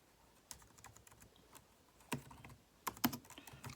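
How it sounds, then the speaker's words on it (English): Soft clicky keystrokes on a Brydge Pro keyboard for iPad tap in an irregular rhythm, close by, with a few louder bursts of quick typing near the end. "Let's go to Notes and see how it types."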